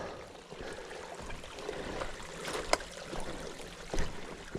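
A mountain stream flows steadily in the woods, a continuous broadband rush of water with faint trickles and a few brief knocks, heard close by with no talking.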